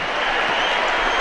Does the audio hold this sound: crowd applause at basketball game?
yes